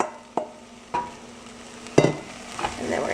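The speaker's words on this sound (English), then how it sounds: "So we're gonna add our sausage" Italian sausage cooking in a pan with pasta ingredients, a constant soft sizzle broken by a few scraping stirs and clinks of a utensil, close and moderately quiet.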